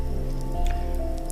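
Rain falling on a highway at night makes a dense, steady patter with a low rumble underneath, continuous and fairly close throughout the short stretch.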